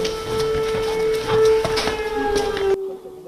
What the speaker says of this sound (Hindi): अभी अचानक और अभी भी सायरन लगातार बज रहा है। ये देखिए, सुनिए इस सायरन को।